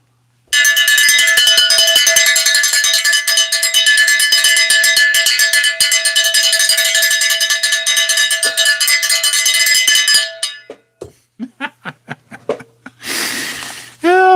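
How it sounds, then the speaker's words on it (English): A cowbell is rung repeatedly in a loud, bright, continuous clatter for about ten seconds, followed by a few scattered separate strikes and a short burst of noise at the end. "Let's ring the cowbell."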